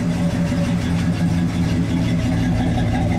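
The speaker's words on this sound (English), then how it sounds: "It's got a nice little 400 rumble out of that dual exhaust." A 1966 Pontiac Lemans convertible with a 400 engine idles with a steady, deep, close rumble through its dual exhaust, holding an even throb with no speech over it.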